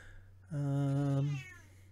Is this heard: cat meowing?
yes